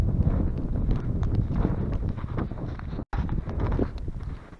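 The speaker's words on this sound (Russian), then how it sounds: "Ветер и снег фигачит." Strong blizzard wind with blowing snow buffets the microphone outdoors near a Kirovets tractor, a steady, loud rumbling roar with one brief dropout.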